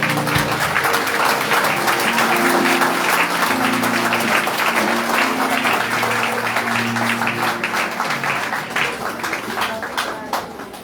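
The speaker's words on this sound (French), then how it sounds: "bel applaudissement pour eux" A church congregation in Caradeux, Haiti applauds during a service, a dense sustained wash of many hands clapping for about eleven seconds, with music tones and voices mixed underneath.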